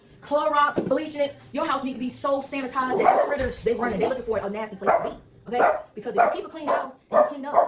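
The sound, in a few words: dog barking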